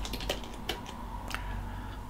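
Typing on a computer keyboard while entering a command in Linux Mint, a short run of quick, close key clicks with a few sharper taps and no talk.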